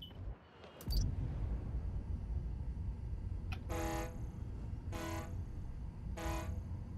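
In the Spider-Man: Miles Morales video game, a train horn at a station toots three times in a steady rhythm over a constant low rumble of city ambience.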